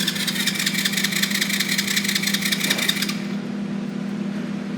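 A small go-kart engine idles steadily nearby with a buzzing hum, and its high whine cuts out around three seconds in while a lower drone continues, no voices.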